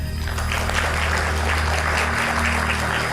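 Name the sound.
audience applause for a speaker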